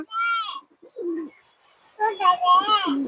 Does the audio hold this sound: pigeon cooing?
yes